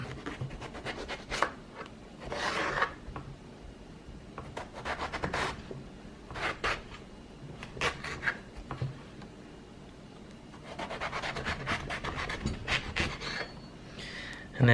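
A knife cuts eggplant into thin strips on a board, giving soft irregular slicing and scraping sounds with a few sharper knocks, fairly quiet and close.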